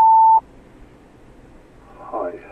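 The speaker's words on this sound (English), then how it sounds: "We aren't accepting calls right now, but you can leave a message after the beep." Answering machine beep in a Five Nights at Freddy's lost tape: one clean, loud electronic tone lasting under half a second, then near silence before a faint voice begins.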